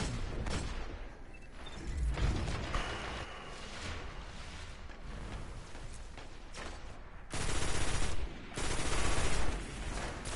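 A heavy-recoil weapon in the Destiny game fires repeatedly in bursts, sharp shots separated by short pauses, with louder volleys near the end and a murky game-noise bed beneath.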